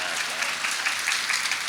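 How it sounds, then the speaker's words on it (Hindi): A live audience at a religious discourse gathering bursts into sustained, steady applause, many hands clapping together at close range with no voices standing out. "अब बजाओ तालियां।"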